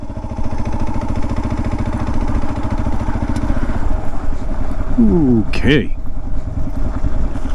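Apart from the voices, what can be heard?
Kawasaki KLR650 motorcycle engine idling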